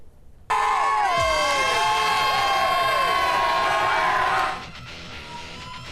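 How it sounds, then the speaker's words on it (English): A rowdy high school football crowd in Richland cheers and yells on a cold night at Williamstown against St. Augustine Prep. The roar bursts in suddenly, holds at full strength for several seconds, then drops away. "the cold wasn't stopping fans from getting rowdy here in Richland"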